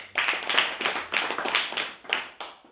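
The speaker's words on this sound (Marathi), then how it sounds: "टाळ्या वाजवा।" A satsang gathering at Darigaon claps in unison, sharp rhythmic beats at a steady pace, about two per second, moderately loud and close with no talking.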